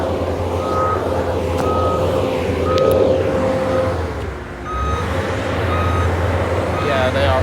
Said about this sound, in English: there's gonna be a lot of noise because there must be doing some construction here